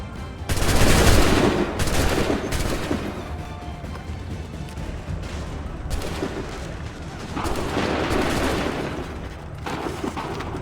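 Loud, sustained gunfire rolls in overlapping bursts and volleys from several weapons at once, with a heavy opening barrage and sharp cracks throughout. No voices are heard.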